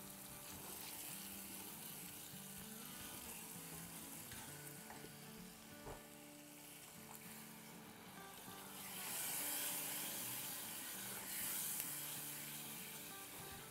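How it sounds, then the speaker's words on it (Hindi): Masala for egg bhurji fries in a pan, with a quiet steady sizzle, occasional stirring scrapes and a brief louder hiss partway through, and no talking. "2-4 मरतबा 1-1 टेबलस्पून पानी का दे के बड़े अच्छे से भून लें"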